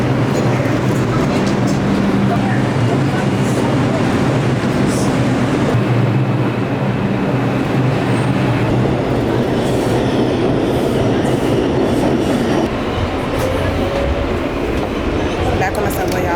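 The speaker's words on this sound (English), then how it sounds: "Back on the subway, y'all." New York subway train rolling along with a steady loud rumble and rattle inside the car, continuous clatter of the ride filling the whole stretch.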